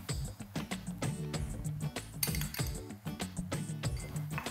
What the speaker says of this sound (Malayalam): ഏലക്കായ, ഗ്രാമ്പു, പട്ട, 3 കൂടി ഒന്ന് ചതച്ചിടാം.